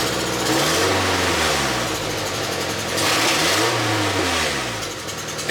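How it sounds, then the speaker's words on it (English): A Toyota MR2 engine revs up and settles twice in a row, rising and falling sweeps close by with a harsh, crackly exhaust edge from a leak, then drops back to idle. "I think it backfired right there."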